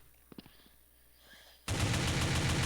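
Loud, continuous automatic gunfire erupts in the Blood Strike shooter game after a stretch of quiet with a few faint clicks, then holds steady and dense to the end.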